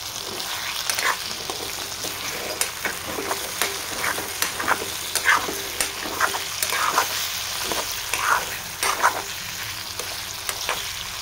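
Spiced potatoes with chili powder sizzle steadily in a pan, with irregular scraping clicks from stirring throughout and no voices.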